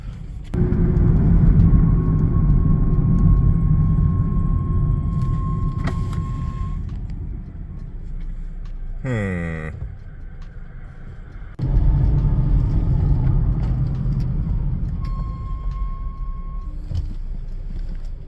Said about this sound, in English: we're gonna take it on a test drive to see if it may possibly need some rotors